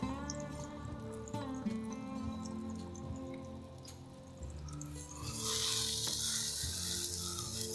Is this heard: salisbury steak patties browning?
yes